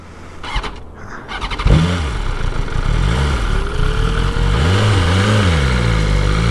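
A BMW S1000RR sport motorcycle, earlier hit by an engine fault, catches after a sharp start and then holds a loud, steady running note with a few rising and falling revs, close by, with no talk.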